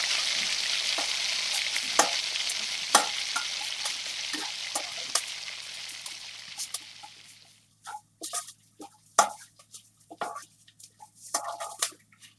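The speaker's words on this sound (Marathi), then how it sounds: "आता त्यामध्ये आपण आता ही आलं लसणाची 1 चमचा पेस्ट घालून घ्यायची आणि तीही छान परतून घ्यायची" Ginger-garlic paste sizzles with onions frying in a pan, a loud steady hiss that fades after several seconds into scattered crackles, pops and stirring scrapes.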